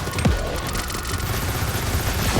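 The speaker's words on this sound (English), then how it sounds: "More gunfire and grenades coming your way" Gunfire and grenade blasts during a boss fight in the video game Crackdown 3, a dense rattling fusillade with a sharp burst near the start, continuous and loud for the short span.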